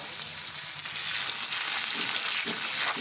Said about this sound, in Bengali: আমি পেঁয়াজ দিয়ে দিচ্ছি পেঁয়াজটা খুব পাতলা পাতলা করে স্লাইস করে নিয়েছি